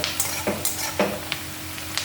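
Pieces of rui (rohu) fish fry in hot oil for macher jhal, a close steady sizzle with repeated scraping and stirring strokes from a utensil in the pan.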